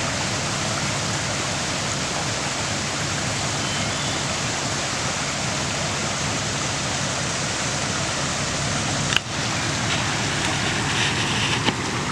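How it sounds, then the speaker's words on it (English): A swollen creek near an off-grid cabin runs hard after heavy rain, a loud, steady broadband rushing roar with no pauses and one brief bump near the end. "All that rain we've been having, the creek sure is flowing."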